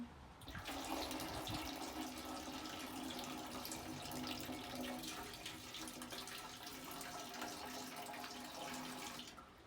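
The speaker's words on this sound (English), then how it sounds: "I've got to pour it in" In the video game Wizard School 3, liquid pours in a steady, continuous stream from start to finish, a faint splashing gurgle with no talking.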